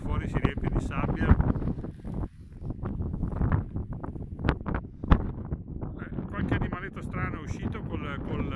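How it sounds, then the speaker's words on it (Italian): A strong desert wind in Tunisia buffets the microphone and carries sand, giving a continuous loud roaring rush with gusty peaks while someone talks over it throughout. "Andiamo a vedere questa scena di vento che porta via tutto, qualsiasi cosa si tira fuori si riempie di sabbia."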